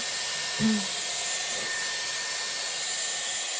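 A Dyson Airwrap hair styler blow-drying hair with a round brush gives a steady, close, loud airflow roar that holds evenly from start to finish, with only a brief soft thump near the beginning.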